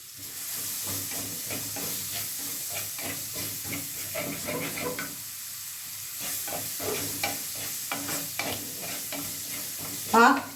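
Chopped onion and green chilli frying in oil in a pan, a continuous bright sizzle broken by repeated scraping stirs of a spoon, close and steady, with a short clatter near the end.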